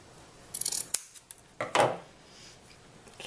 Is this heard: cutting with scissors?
yes